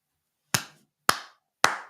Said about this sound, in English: I got to clap for that.